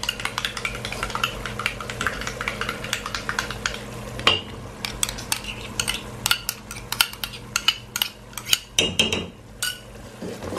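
A spoon scraping and clinking against a pan while spices and yogurt are stirred in for a mutton kofta curry, with repeated sharp metallic taps over a low steady background hum, close and moderately loud.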